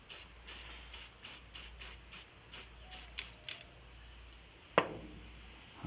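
Acrylic paint sprayed onto an old Xbox controller in a series of short, evenly spaced hissing bursts, faint and close, followed by a sharp click near the end.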